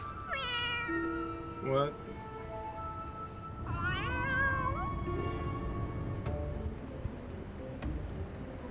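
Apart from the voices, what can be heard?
cat meowing in video game Final Fantasy XIV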